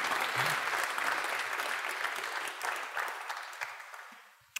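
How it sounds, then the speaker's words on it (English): A crowd at a tech conference talk applauds loudly and steadily, the clapping fading out near the end. "Or applause is also nice."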